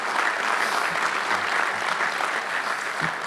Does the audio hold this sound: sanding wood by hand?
no